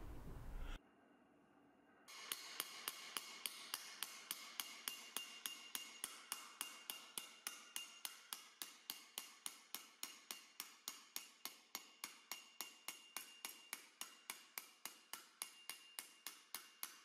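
A hammer taps sheet metal against a dolly in a steady, even rhythm, dozens of quick ringing strikes close by after a brief pause at the start.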